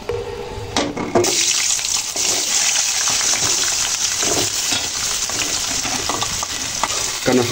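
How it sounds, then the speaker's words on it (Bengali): Potatoes sizzle in the oil left over from frying taki fish. The crackle is steady and close, with occasional scrapes and stirring. "এই মাছ ভাজার তেলে এই আলুগুলো হালকা ভেজে নেব।"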